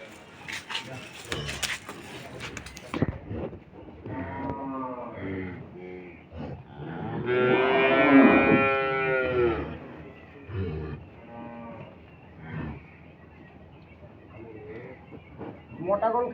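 Friesian dairy cows at a cattle sale give a long, deep moo in the middle of the clip, while people talk around them before and after.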